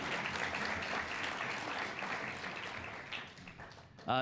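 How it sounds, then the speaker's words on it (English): Dense, continuous audience applause fills a hall at an Indigi Lab event with a guest speaker, steady throughout, with a brief voice and a louder burst at the very end. "Oh, the clap started. You can certainly clap"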